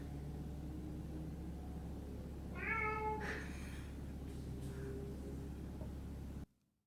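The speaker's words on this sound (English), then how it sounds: "My cat is meowing in my bathtub." A house cat meows from inside a bathtub, a short run of clear, rising cries near the middle, close and moderately loud over a steady low hum, then quiet.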